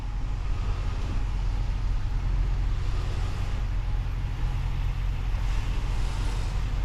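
A 2020 Ram 1500 Limited 4X4 pickup reversing out of a parking spot, heard from inside the cab as a steady low engine and road rumble, constant and moderately loud with no talk.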